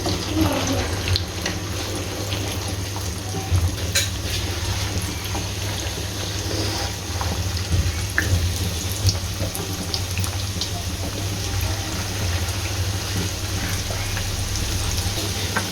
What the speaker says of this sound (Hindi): अब इसके अंदर हमने बारीक बारीक पकोड़े डालने हैं।